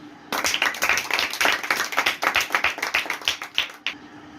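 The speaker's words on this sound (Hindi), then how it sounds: "मैं चाहता हूं कि एक बार ताली बजाइए।" An audience at a Hindi-Urdu Mother's Day sermon claps together, a dense run of close, rapid hand claps that fills several seconds before cutting off.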